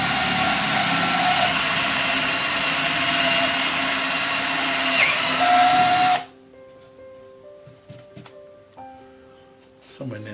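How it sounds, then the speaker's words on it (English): A power drill bores a hole into a turned wooden yarn bowl, a steady high whine for about six seconds that cuts off abruptly, followed by quiet handling noises. "first thing to do is to drill the"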